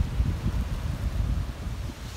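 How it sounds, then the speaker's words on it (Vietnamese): Strong wind on a mountain trail near Hòn Sơn buffets the microphone in a steady, low, rumbling roar with gusty swells and no voices. "Gió rất là to"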